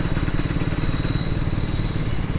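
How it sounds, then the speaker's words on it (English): A Triumph Speed 400 motorcycle engine labours in 6th gear at about 20 km/h, a loud, steady low rhythmic knocking thrum close by. "6th gear at 20 or 19 kilometers per hour to do the engine stress test"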